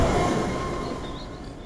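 A moving train in the horror game Underhell rumbles past with a steady, loud rolling roar and faint metallic wheel tones, fading slightly over a brief moment, with no talk over it.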